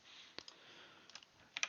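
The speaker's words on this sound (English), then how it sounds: "So like there, I clicked on H," A few soft, scattered key presses on a computer keyboard, quiet clicks spaced apart with faint room noise and no talking.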